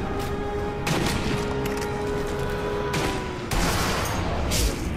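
Gunfire in the video game Sniper Elite V2, several sharp shots cracking over a continuous battlefield and music backdrop, with a heavier burst near the end.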